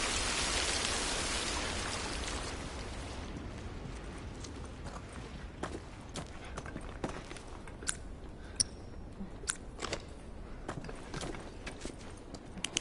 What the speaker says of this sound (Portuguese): Pelo menos saímos da chuva.